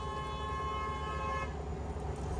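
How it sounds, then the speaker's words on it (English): A car horn sounds near a parked car on a city street, one sustained honk held for over a second before cutting off, leaving steady traffic noise behind. "Somebody honking at me for peeing?"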